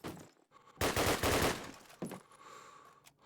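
Rapid bursts of gunfire in a competitive tactical shooter match, a loud sustained volley in the middle with scattered shots before and after, no talking.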